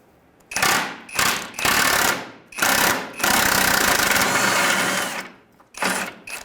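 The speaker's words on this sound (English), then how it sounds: "You can now get on it with an impact." Impact wrench loosening a rear lower control arm bolt on a 2003–2011 Honda Element, firing in several loud, close bursts of rapid hammering separated by brief pauses, with one long sustained run in the middle.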